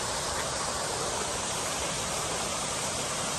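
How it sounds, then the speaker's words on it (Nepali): A mountain stream rushing through forest on a rural trail, a loud, unbroken roar of flowing water close by, steady and even with no other sounds. "खोला बजेको सुन्दै हुनुहुन्छ नि।"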